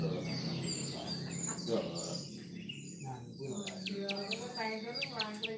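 A female captive-bred, ringed bird calling from a breeding cage gives short repeated chirps, clustered toward the end over steady background noise, with a person talking nearby.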